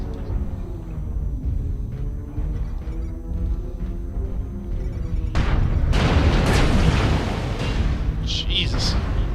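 Weapons fire and explosions in the mech combat game Mechwarrior Online: a steady rumbling layer gives way to a louder, denser barrage of booms and bursts in the second half, with sharp bright crackles near the end.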